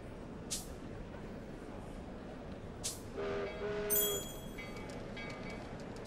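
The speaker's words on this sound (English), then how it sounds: "So this is what a train is like." A train runs steadily in Demon Slayer Hinokami Chronicles, a constant rumbling rolling noise with a couple of short hissing bursts and brief whistle-like tones mid-way, no talk.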